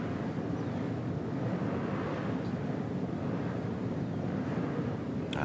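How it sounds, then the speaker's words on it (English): Racing motorcycle engines at a national championship round rumble steadily from some distance, a broad continuous growl with wind noise and no talk. "It's great to hear those engines growling."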